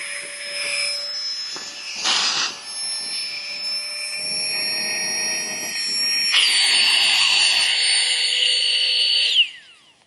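A small electric air pump inflating a camping sleeping pad, a steady high whine that rises in pitch and loudness partway through, then cuts off abruptly at the end, close and alone.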